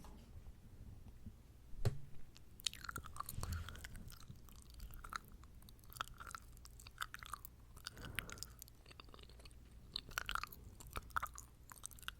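Close, quiet gum chewing: soft wet smacks and clicks recur in an uneven rhythm, recorded near the mouth in a hushed ASMR setting.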